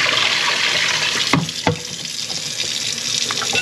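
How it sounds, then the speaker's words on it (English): Cold tap water running over rice being rinsed in a kitchen sink, a close, steady gush with a couple of sharp clunks and splashes midway. "I am cleaning the rice with cold water"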